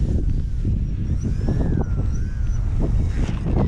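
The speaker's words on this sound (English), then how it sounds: "that wind is not doing it in my favor" Steady wind roars and buffets across an open RC flying field during the maiden flight of a small Bayer Model 32-inch Edge 540, with a faint engine-like whine rising and falling in the background.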